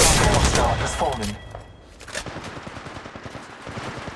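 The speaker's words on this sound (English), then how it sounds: "The enemies are shooting at me." Enemy gunfire in Apex Legends Mobile crackles in dense bursts at the start, then drops back to a rapid string of lighter, more distant shots.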